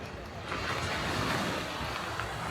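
Sea waves wash against the shore at night, a steady close rush mixed with wind noise on the microphone, while a person talks.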